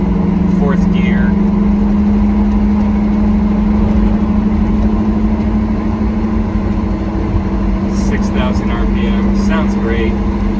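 Small Kei truck engine pulling hard at 5,000 RPM in fourth gear while driving through town: a loud, steady, close engine drone with a constant hum, and brief chirpy bits near the end that may be a voice.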